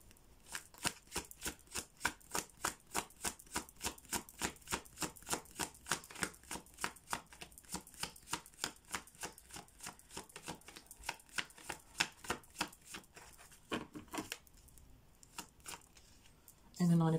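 Tarot cards are shuffled in a fast, steady run of crisp riffling snaps for about fourteen seconds, close and fairly quiet, ending with a few looser flicks.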